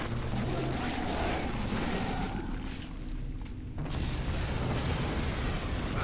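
Dense, continuous gunfire and explosions from a Halo 3 Legendary campaign firefight, with layered weapon bursts and booming blasts filling the whole stretch while a voice talks over it.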